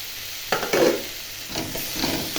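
Fish frying in oil with spices and turmeric in a pan, a moderate sizzle broken by a few stirring scrapes and bursts of crackling, no speech.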